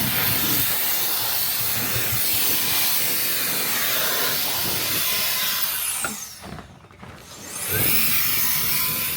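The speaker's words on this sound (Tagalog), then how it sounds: "ang lakas din ng blower" A powerful snow blower clears deep snow from a buried parking lot in Canada after a snowstorm, a loud continuous hissing roar that dips briefly near the end before surging back.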